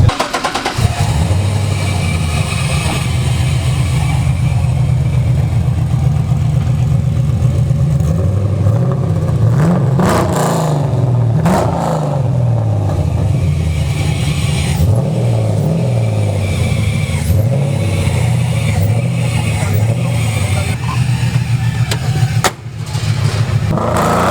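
A Honda S2000 with an LS engine swap, J's Racing fender flares, Bride seats and a full roll cage revs hard and close, its loud engine roar rising and falling through repeated throttle blips with no talk.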